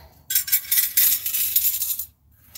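Little pebbles clink and rattle together on an altar in a bright, close, continuous jingle lasting under two seconds, with a faint low hum beneath.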